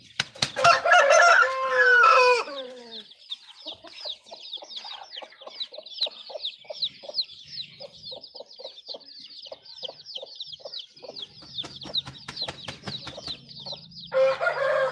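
A fighting rooster crows loudly at the start, followed by steady rhythmic clucking and chirping from chickens, with another crow rising at the end.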